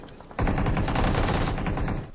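An MG3 machine gun in a video game fires a fast, loud, continuous burst of rapid rattling shots that starts abruptly and lasts under two seconds.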